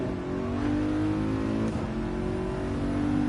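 Ferrari 308 GTB engine in a racing game, heard from inside the car as a steady, loud drone with a slight rise in pitch, revving along continuously with no talk over it.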